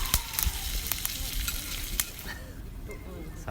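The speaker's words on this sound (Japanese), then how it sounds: "感じにジュージュー言っております" Steady crackling sizzle of food frying in a hot skillet at a campsite, with scattered pops and spits throughout, close and continuous.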